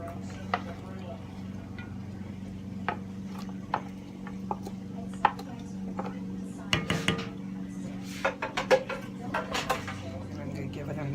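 Onion being stirred into a simmering pot for a birthday dinner, with scattered metal clinks and scrapes of a utensil against the pot over a low steady hum, growing busier toward the end, while someone talks.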